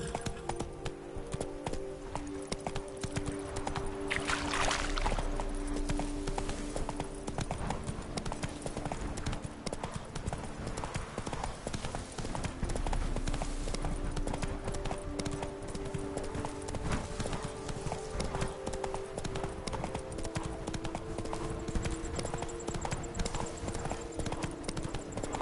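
Roach the horse galloping in The Witcher 3: Blood and Wine, rapid rhythmic hoofbeats pounding steadily and close throughout over ambient game sound.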